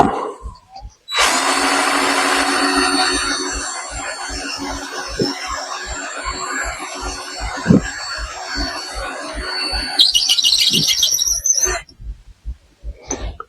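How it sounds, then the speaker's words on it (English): A power drill bores out a screw head, its motor whining steadily and loud up close for about ten seconds, then pitching up briefly before stopping, with faint taps around it. "I don't want to go too far and drill the whole damn thing out"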